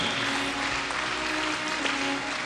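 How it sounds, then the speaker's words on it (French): Church congregation at a fasting and prayer service applauding in worship, a continuous dense clapping that fills the space, steady and unbroken. "Applaudis bien le Seigneur des Seigneurs."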